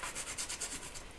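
Steady rhythmic rubbing and scrubbing on a Kups EA series piston as coffee grime is cleaned off, close and moderately quiet with repeated back-and-forth strokes and no talking.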